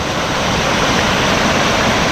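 Ton Tae Waterfall in Trang, Thailand roars as a loud, dense, continuous rush of falling water close by, with no voices.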